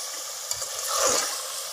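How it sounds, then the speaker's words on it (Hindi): Spices and garlic ginger paste fry in a pot for degi aloo gosht, a soft continuous sizzle with a brief stirring swell, close and steady with no talk. "साथ ही मैं इसमें लहसुन अदरक का ये पेस्ट भी डालने लगा।"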